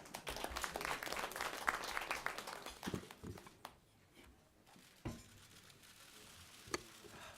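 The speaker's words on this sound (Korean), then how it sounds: "큰 박수로 맞이해 주시기 바랍니다" An audience at a political forum applauds to welcome a speaker, a dense burst of clapping that fades after a few seconds, leaving faint room noise and a few isolated claps or knocks.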